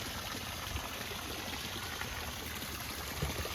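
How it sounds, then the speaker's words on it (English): Small waterfall in a swampy wetland pouring into a little pocket of brown water, a steady broadband rush and trickle heard up close on a rainy hike, continuous and even throughout with no talking. "There's a little waterfall right there, coming from somewhere and flowing into this little pocket here."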